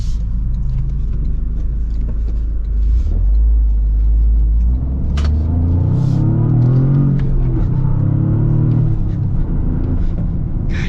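A 2026 Toyota GR Corolla with a manual gearbox accelerates hard in sport mode, its engine rumbling loud and deep, then climbing in pitch through the revs as speed builds.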